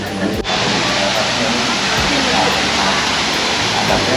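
Steady broadband rush of a waterfall on temple grounds at Khao Phra Khru near Sri Racha, loud and continuous throughout with a few low thumps underneath.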